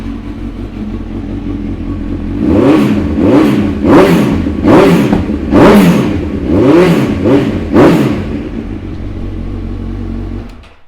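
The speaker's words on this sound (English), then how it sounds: "We'll give it a start for you." Honda CB1000R ABS motorcycle from 2015 with low mileage, its engine idling steadily then revved in about eight sharp, evenly spaced bursts, loud and close, settling back to idle at the end.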